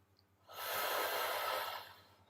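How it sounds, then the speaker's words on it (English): A person doing a slow meditation breath lets out a long, airy exhale through the nose, close and breathy, rising and fading over about two seconds against a faint low hum. "Just breathing in, hold, breathing out, exhale."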